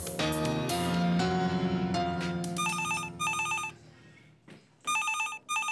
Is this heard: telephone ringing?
yes